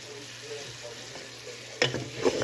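Spiced kala bhuna meat is turned in a pan, with a quiet sizzle under a low hum, then a couple of sharper scraping stirs near the end.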